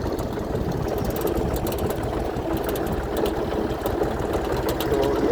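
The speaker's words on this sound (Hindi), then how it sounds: "ये भाई साहब ट्रैक्टर चला रहे हैं" A tractor engine runs steadily as it pulls a plough across a field, heard up close as a loud, continuous mechanical chug with a rapid rattling beat. No one speaks.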